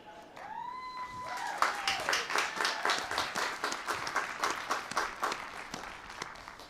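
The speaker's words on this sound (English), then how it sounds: "we just want to give her another round of applause" Audience applause at a nursing and health sciences commencement ceremony, a short whooping voice at the start, then steady, fairly faint group clapping that keeps going and tapers slightly.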